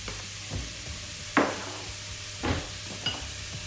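Chicken sizzling in a frying pan for Charlie Chan pasta, a steady soft hiss close by, broken by a few sharp scraping stirs of a utensil.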